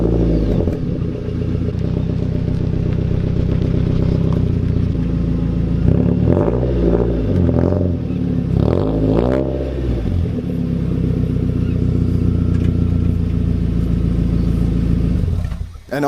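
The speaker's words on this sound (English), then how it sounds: "Previously, I had a muffler delete axle back on this car, and this is what that sounded like." Mazda Miata with a muffler-delete axle-back exhaust, revving loud and raspy in repeated rising blips over a steady rumbling idle, close to the microphone with no talking.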